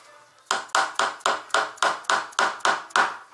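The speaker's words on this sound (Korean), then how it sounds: "빠가 넣는 것은 약간 망치질로" Hammer blows strike a part during repair of a 10-inch electric scooter, about ten evenly spaced, loud metallic knocks in a steady rhythm with short ringing decays and no talk.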